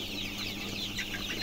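Village-farmed young broiler chickens, about 30 days old, cluck softly in a brief steady chorus under a constant hiss of background noise, with no talk.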